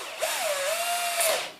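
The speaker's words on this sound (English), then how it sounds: "put both wires in the drill" A power drill twisting two wires together whirs steadily for over a second, its motor pitch rising at the start and winding down at the end, with no talking.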